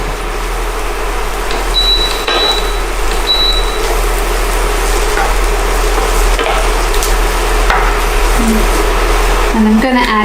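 Mushrooms fry in a generous amount of oil in a pan, giving a constant close sizzle with a few clinks and stirring noises over a low background hum.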